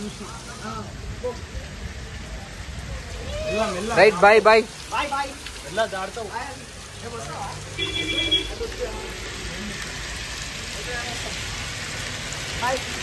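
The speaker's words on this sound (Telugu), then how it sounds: "సడన్ గా వర్షం వస్తుంది" Steady hiss of rain falling on a surface, with a few short spoken words and a voice breaking through partway.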